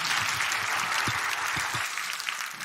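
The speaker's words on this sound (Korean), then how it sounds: "우리 박수하겠습니다." A church congregation applauds during a Sunday service, broad steady clapping filling the room with a few low thumps beneath it, fading a little near the end.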